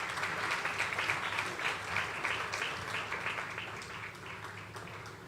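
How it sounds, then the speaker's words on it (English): Audience applause at a formal ceremony honouring a national president, a sustained wash of many hands clapping that stays dense and gradually fades slightly toward the end. "Please, one more time, a round of applause."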